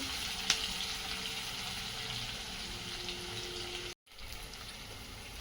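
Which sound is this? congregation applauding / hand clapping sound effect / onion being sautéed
onion being sautéed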